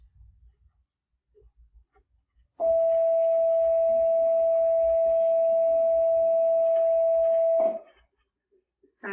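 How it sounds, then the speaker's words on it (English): An electronic school bell sounds one steady, loud pure tone that holds for about five seconds and then cuts off, with faint room noise before and after. "Sorry about the bells, guys."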